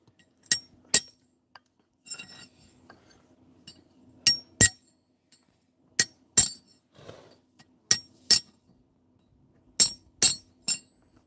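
Sharp metallic hammer strikes ring out on a horseshoe during horseshoeing, loud and close, in irregular pairs and clusters with brief pauses between.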